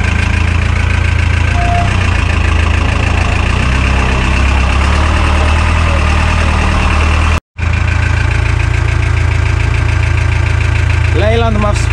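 A Leyland 270 farm tractor with nearly 5000 engine hours and power steering runs steadily at idle, a loud continuous low engine drone that holds for the whole stretch apart from a brief cut near the end.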